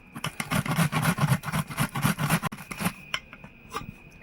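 Crisp snipping and scraping from cauliflower florets being peeled and trimmed by hand for shrimp fritters, a quick run of close, dense cuts that thins into a few sparse clicks and scrapes.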